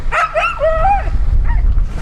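Close, loud barking and yipping from a Siberian Husky indoors, a quick run of sharp howl-like barks in the first second and a shorter yelp near the end.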